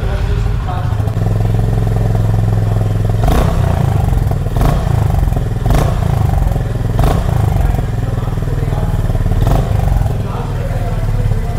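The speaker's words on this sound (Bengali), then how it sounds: "চলুন সবার আগে এর এক্সস্ট সাউন্ডকে আপনাদের শোনানো যাক, যেহেতু এখানে নতুন OBD2B ইঞ্জিন দেওয়া হয়েছে।" A Honda Highness CB350 with the OBD2B engine sits close by, its exhaust thumping in a steady low idle with several sharp revs blipping up and falling back.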